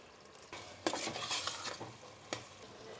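Vegetables for Mumbai-style pav bhaji mashed and stirred in a pan, with scraping and mashing strokes over a soft sizzle, a few sharper utensil knocks standing out, fairly quiet and close.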